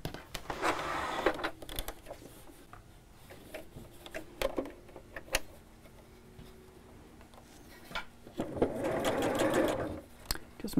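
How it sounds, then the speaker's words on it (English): A sewing machine stitches along the piped edge of a cushion cover in short, close bursts of rapid mechanical whirring separated by quiet pauses and small handling noises. "we'll carry on sewing across that same stitch line"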